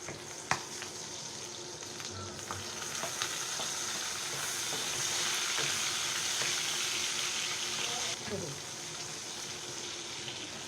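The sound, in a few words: garlic and onion sautéing in a pan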